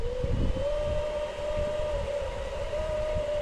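A 1950s Black & Decker U2 electric drill runs continuously, a steady high motor whine with a faint wavering pitch over a rough low rumble, close and sustained with no talking.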